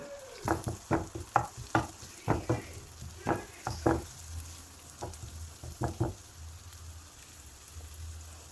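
Onions sautéed in a pan with turmeric and chili powder for a sardine curry, with a soft sizzle under repeated clattering spatula strokes that come in an uneven rhythm, then fade to quieter frying.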